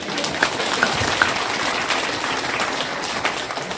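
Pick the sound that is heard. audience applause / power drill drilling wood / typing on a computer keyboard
audience applause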